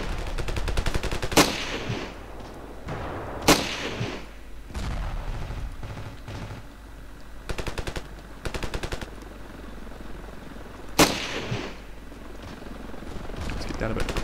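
Rifle fire while shooting enemies in the video game Ravenfield: sharp single shots and short rapid bursts crack out at irregular intervals, loud and close, with faint chatter in between.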